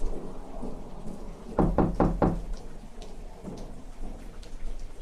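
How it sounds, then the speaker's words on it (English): Four loud, evenly spaced bangs on a door ring out in a quick burst, set against a steady backdrop of rain with faint fainter knocks trailing after. "the banging on the door started again"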